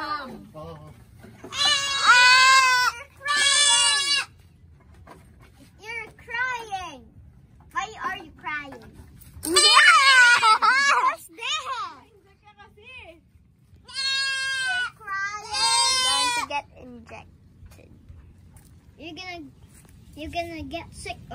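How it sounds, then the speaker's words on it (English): Goats bleat loudly and close by in repeated wavering cries during an injection session, with people talking and calling to each other between the bleats. "A lot of goat, James."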